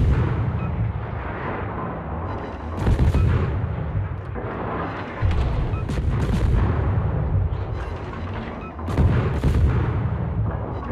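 Naval guns fire repeatedly in World of Warships, with heavy booming salvos at irregular intervals over a continuous low rumble of ship and battle ambience.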